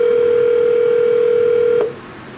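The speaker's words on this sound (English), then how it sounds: "press the button and the number is dialed automatically" Avaya VoIP phone tone heard before a stored number is dialed automatically: a steady, loud, clean electronic tone that holds alone, then cuts off abruptly.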